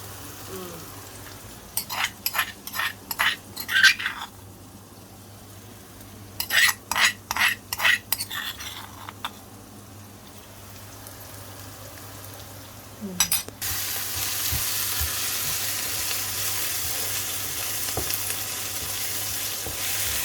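Ginger garlic paste fries in a pan for prawn gravy. Bursts of rhythmic scraping and clinking from a spatula stirring come first, then a loud, steady sizzle takes over for the rest.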